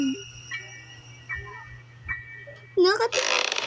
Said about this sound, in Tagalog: Ay, umutot ako.